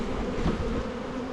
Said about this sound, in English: All right, shake them in.